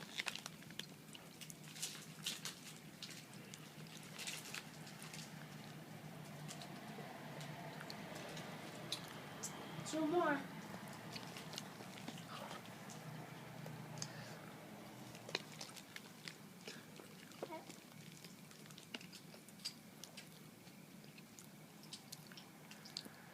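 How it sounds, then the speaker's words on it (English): Moist chewing and smacking sounds continue close up at a low level, with a few short spoken words in the background. "Why do you smack like that"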